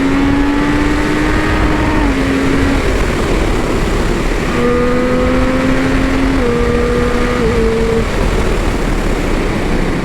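A Triumph Street Triple 765 RS motorcycle climbs an uphill road, its engine holding a steady, loud drone that rises and steps between gears, with a pause in the middle, heard close up without talking.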